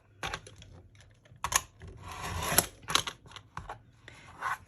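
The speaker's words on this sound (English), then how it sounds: "I move the lining out of the way and I cut all the bottom off" Scissors snipping through the bottom of a bag's lining fabric, a few close, uneven bursts of cutting and rustling with short pauses between them.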